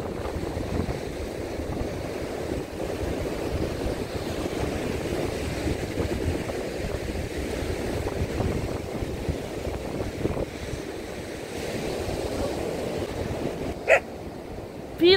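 Stormy sea surf on the Odesa shore, a steady low wash of waves mixed with wind buffeting the microphone, with a couple of sharp knocks near the end.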